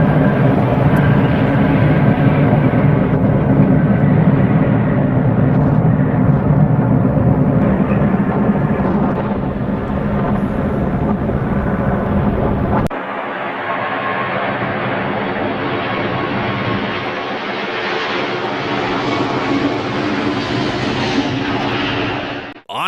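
A Boeing 747 lands in a stormy crosswind, its engines giving a loud, sustained roar that abruptly drops to a lower, steadier rumble partway through, then cuts off at the end.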